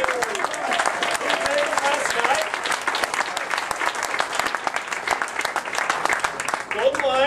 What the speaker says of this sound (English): let's give a big round of applause for the team that represented UAPB